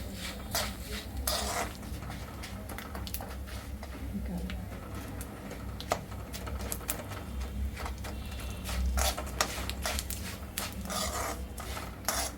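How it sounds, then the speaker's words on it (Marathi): Red chili powder being stirred into a pan with the heat switched off, giving a steady scraping and rubbing of a spoon against metal with occasional clinks, fairly close, under a continuous low background hum. "आणि हे चांगले मिक्स करून घ्यायचे."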